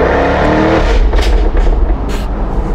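A Jaguar F-Type R engine revving loudly and close, a deep sustained roar that rises and holds with crackling bursts on top.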